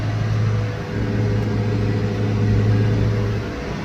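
A farm tractor engine runs steadily while cutting a ditch in a field, a close, constant low drone with a faint hum and no voices.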